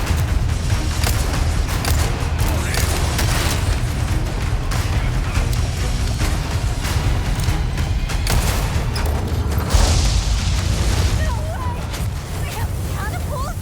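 Rapid gunfire in Resident Evil 4 Remake as the player walks and shoots, loud bursts and booms continuing steadily under game music and talk throughout.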